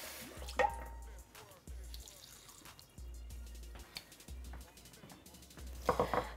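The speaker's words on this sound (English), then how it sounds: "whisk in some hot water, which is going to emulsify with the peanut butter and create a smooth sauce" Hot water trickles and drips into a bowl of peanut butter sauce being whisked for rice paper collard wraps, a soft, close, intermittent liquid pouring with light clinks, no speech.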